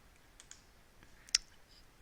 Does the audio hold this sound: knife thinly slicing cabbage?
no